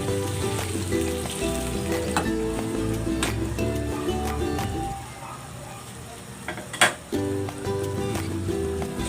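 Water poured into a pan of sizzling pork, a loud steady frying hiss that drops away midway, then flares again with a sharp burst of spattering.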